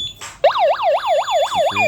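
A wireless addressable fire alarm system sounding, a loud close electronic siren that sweeps up and down in a steady repeating whoop after a short chirp.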